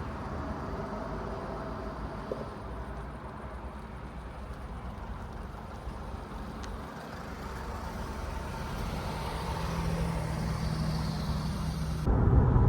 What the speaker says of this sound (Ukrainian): А зараз зробимо невеличкий тест-драйв.